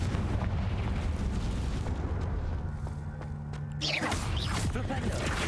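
Confringo fire spell in Hogwarts Legacy erupting in a rumbling explosion, a dense roaring blast that tails off then swells again with a fresh burst near the end.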